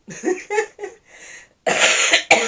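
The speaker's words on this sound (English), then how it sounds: "Oh dear, there goes the cough again." Several harsh coughs close up: a few separate hacking bursts, then a louder, longer coughing fit near the end, with no talking.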